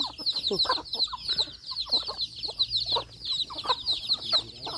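Chickens on a farm clucking steadily and close by, with irregular bursts of clucks and soft calls running through the whole stretch over a constant high-pitched insect-like drone in the background.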